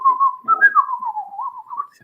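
A man whistles the march tune Garryowen, a single clear melodic line of short rising and falling phrases, close and solo with no other sound.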